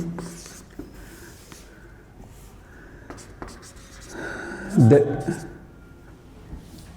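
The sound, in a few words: writing lines about density by hand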